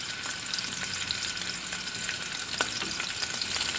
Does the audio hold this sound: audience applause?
no